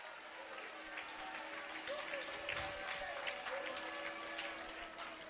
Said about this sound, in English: Come on, clap your hands and give glory to God